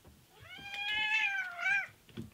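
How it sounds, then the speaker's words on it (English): A grumpy pet cat gives a single drawn-out meow that rises and bends in pitch, close and clear, followed by a brief soft rustle. "He's a grumpy kitty today."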